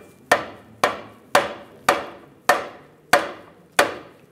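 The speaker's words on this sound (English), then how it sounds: "I'm just gonna use a rubber mallet," A rubber mallet taps a lower forward control arm bushing on a 1998-2010 Volkswagen Beetle in seven evenly spaced, sharp, close knocks, each dying away quickly, with no talk.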